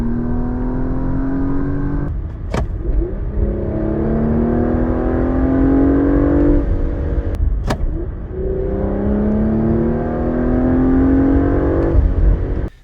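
Porsche Macan S with a 2.9 V6 accelerates hard, its engine note rising steadily through gears with brief pauses at quick shifts, a loud continuous roar heard up close with no talking.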